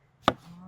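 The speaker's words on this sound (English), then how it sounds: "I just need to cut them in half so I can help the blender a little bit." A single sharp knife chop through a tomato or chili on a cutting board while preparing salsa for pico de gallo, one crisp thunk followed by a faint low hum afterward.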